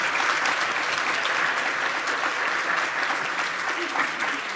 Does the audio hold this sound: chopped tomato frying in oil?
no